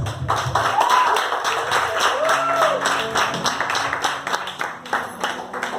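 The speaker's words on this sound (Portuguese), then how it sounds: "Uma salva de palmas, pastor Gilberto." A church audience claps in welcome for Pastor Gilberto, a dense, steady round of applause with scattered sharp taps that carries throughout and eases slightly toward the end.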